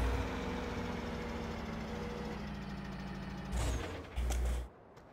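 A rough-running farm vehicle engine in Farming Simulator 17 idles steadily with a low drone, then revs briefly twice before cutting off.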